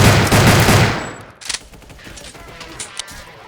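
Dual pistols fire in a Roblox zombie shooter, a loud burst of rapid overlapping shots that fades out, followed by a few sharper single cracks.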